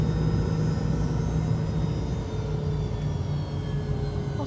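A Fokker 70 airliner taxis fast after landing in Brisbane, heard from inside the cabin as a steady, loud engine drone and rumble with faint whining tones, continuous throughout.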